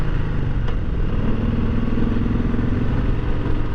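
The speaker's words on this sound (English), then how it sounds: "Look at all those motorcycles." Motorcycles riding along the Blue Ridge Parkway in North Carolina, a steady close engine drone with a faint rising tone mid-way, continuous for the whole stretch with no talk.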